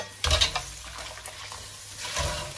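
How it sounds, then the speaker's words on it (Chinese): Tap water splashes briefly as pork for a chestnut braise is rinsed in a kitchen, with two short bursts of running water and faint clinks between them. "咱们来点温水，给那肉给它洗一洗啊。"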